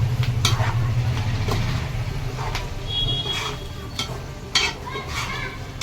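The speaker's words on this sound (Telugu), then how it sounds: "చక్కగా మెంతికూర కూడా ఇందులో వేగిపోతుంది" Chicken liver and fenugreek leaves fry in a pan with a steady close sizzle, broken by repeated scraping and clinking strokes of a spoon stirring the mixture.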